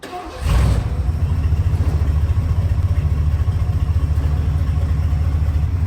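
Ford F-150 brick-nose truck engine, converted from fuel injection to a carburetor, idles steadily on stock exhaust after starting up, with a loud, even low rumble close to the microphone.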